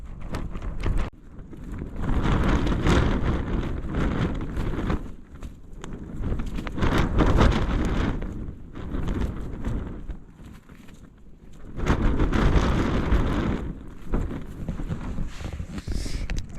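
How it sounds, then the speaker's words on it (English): Strong wind gusting just over 30 at a wild camp in the Lake District's northern fells roars and buffets the microphone in heavy, uneven gusts that surge and ease, with loud low rumbling throughout and no voices. "Oh well, that wasn't forecasted. It's not blowing too bad. It's gusting at just over 30."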